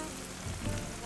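Chili flakes sautéing in oil in a pan for a Valentine's pasta, giving a steady, soft, close hiss of frying with no talk.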